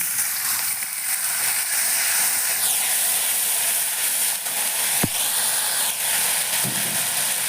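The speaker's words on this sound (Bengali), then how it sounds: "এবার আমি দেখো একটু জল দিলাম।" Steady hissing sizzle of liquid hitting a hot pan, continuous throughout with a brief sharp clink partway through.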